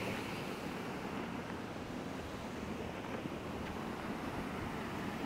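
Bhurmuni waterfall near Pithoragarh roaring steadily, a dense continuous wash of falling water heard from nearby with no talk over it.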